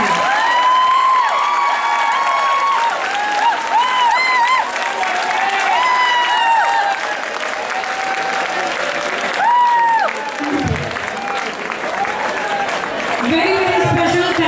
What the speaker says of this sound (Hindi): जब तक वो लोग थक न जाए ताली बजती रहनी चाहिए.